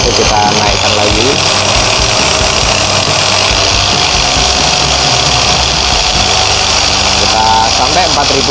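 A Shinemate EX610 dual action polisher runs continuously at 3000 rpm with a steady high-pitched whir and motor drone, loud and close, with a person talking over it throughout.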